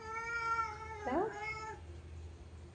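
A cat lets out one loud, drawn-out meow with a rising, wavering pitch in the middle. It sounds close, with quiet room noise before and after.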